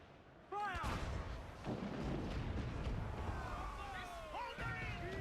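Ship cannons in Assassin's Creed Black Flag boom in heavy broadband bursts amid battle din, with a shouted voice over rumbling gunfire and whistling tones late on.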